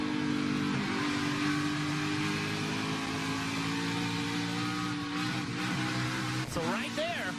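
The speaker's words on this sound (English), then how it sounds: "all that noise you heard, that was him coming in and out of the throttle trying to get the rear tires to hook up" A stock race car engine during qualifying at Loudon, droning loud and continuous as the driver goes in and out of the throttle trying to get the rear tires to hook up, with pitch swells and a sharp sweep near the end.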